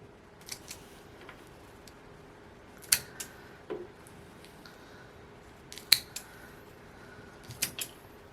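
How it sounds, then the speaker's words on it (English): Pruning shears snip the top growth of a dwarf jade plant (Portulacaria afra) being cut back before repotting, giving several sharp, close clicks spaced irregularly over a quiet background. "just going to cut a couple inches off of everything from the top"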